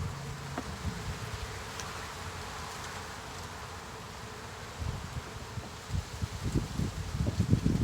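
A steady honey bee buzz hums throughout during beekeeping, with soft rustling and a few low thumps growing louder toward the end.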